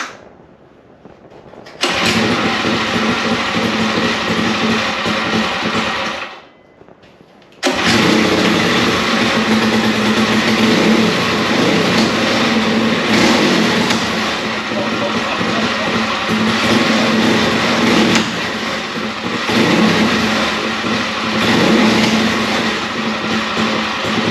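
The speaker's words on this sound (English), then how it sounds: "So, as you can see, it runs, sounds awesome, it revs up really fast." A small single-cylinder Predator 212cc go-kart engine sputters to life after a brief pause, then runs loud and steady close by, its revs rising and falling.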